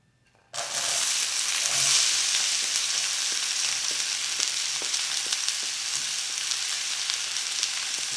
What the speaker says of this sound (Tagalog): igigisa natin yung sibuyas, bawang, pati na rin yung luya